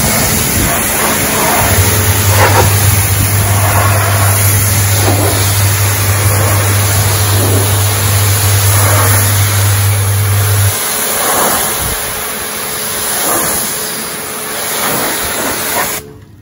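A hot pressure washer blasting dirt off a soil-covered vehicle without agitation, a loud continuous spray hiss with a steady machine hum beneath, close by and unbroken for most of the stretch, then easing as the jet shifts.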